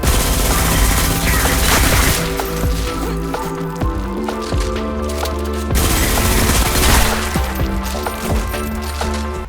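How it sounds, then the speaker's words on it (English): Dual-wielded high-fire-rate SMGs in the FPS game Selaco unleash dense, continuous automatic fire, steady rapid bursts running the full length with brief dips, loud and close over a layer of game music. "This is a high fire rate SMG, and I love SMGs like this."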